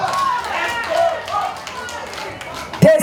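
Audience applause at a live performance, a steady patter of clapping that runs beneath someone speaking throughout, with a louder sharp clap near the end.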